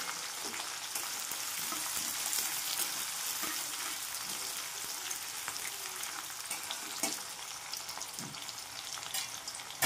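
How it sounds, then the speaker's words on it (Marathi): Onions sizzling in oil in a pan while aloo matar is cooked, a steady crackling fry with occasional stirring scrapes, close but fairly quiet and with no talk. "तळून घेणार"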